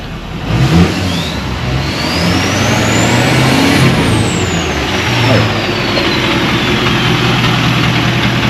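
A Duramax diesel truck engine runs steadily at idle nearby, a continuous loud rumble with a faint rising and falling whine above it and no voices.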